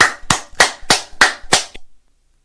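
Six sharp, evenly spaced claps, loud and close, then sudden silence.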